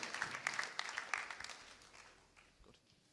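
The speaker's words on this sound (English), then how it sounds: "can we have one round of applause for all of the staff that attended tonight?" A brief round of applause for staff at a graduation ceremony, faint and somewhat distant, with scattered claps strongest at first and then thinning out and fading away.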